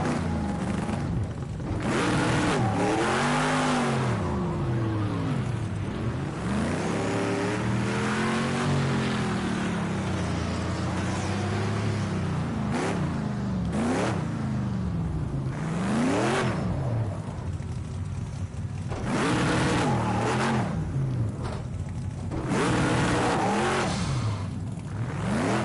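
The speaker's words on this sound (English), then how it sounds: "I'll just do 1 or 2 donuts." A race car in Project Cars 2 spins donuts, its engine revving loudly and continuously, pitch swooping up and down in repeated waves of acceleration with no voices over it.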